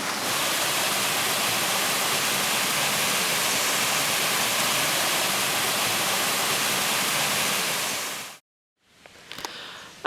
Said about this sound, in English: we've landed at this amazing waterfall.